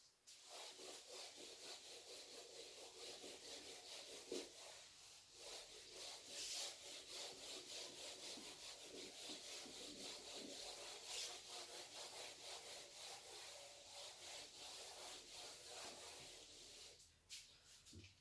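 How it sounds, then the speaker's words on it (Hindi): A board in a physics class is rubbed clean, producing a steady, continuous rhythmic scrubbing that keeps going for the whole stretch with only brief pauses, fairly quiet and without speech. "इसको रब कर रहा हूं मैं"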